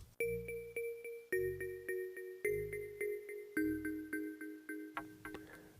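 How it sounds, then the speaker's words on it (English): A quiet synthesizer pattern from Ableton's Operator synth, bright, bell-like tones repeating in a steady pulsing rhythm over deep bass hits, shifting pitch in several blocks. "So the synth sounds like this from operator."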